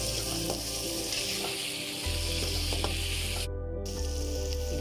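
Onion and tomato sauté in a pan for baby potato curry, giving a steady close sizzle and hiss with a low hum underneath and no speech.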